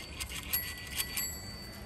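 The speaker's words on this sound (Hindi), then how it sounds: "क्या हो गया, ठीक नहीं हो रही घंटी? इसका तो खराब है।" A faulty bicycle bell whose part touches the top, giving several short, thin metallic rings in quick irregular bursts, fairly close and heard alone.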